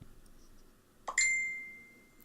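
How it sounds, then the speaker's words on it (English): Mobile phone notification ding, a single bright tone with a soft click just before it, ringing clearly and decaying slowly over quiet room tone. "I usually have my phone on silent, but it was nearly dead, so I thought it would die before it dinged."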